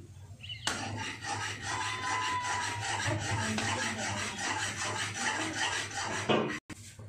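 Steady scraping and rubbing of a utensil against a pan while stirring creamy pasta sauce, continuous for several seconds with no voices, ending abruptly.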